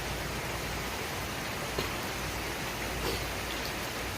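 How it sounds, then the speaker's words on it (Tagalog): Heavy rain pours steadily in a rural countryside setting, a dense, continuous hiss with faint drop patter at close range and no voices. "ang lakas ng ulan mga kaibigan"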